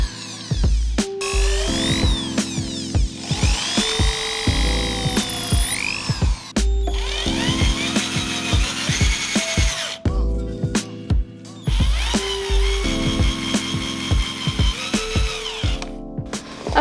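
A cordless drill drives screws while a puff stool is built, with repeated whirring bursts that rise and fall in pitch, separated by short pauses and clicks, close and loud.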